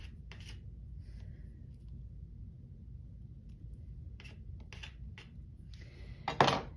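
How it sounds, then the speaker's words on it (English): A dragon scale tool scrapes across clay in a pottery studio, giving several faint, short rasping strokes at irregular intervals over a quiet background, with a slightly stronger scrape near the end. "This is like a dragon scale tool."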